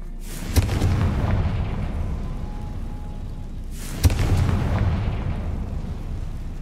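Two loud, close explosions from the Confringo blasting spell in Hogwarts Legacy, about three and a half seconds apart, each a sharp crack followed by a long rumbling, crackling decay that fades out slowly.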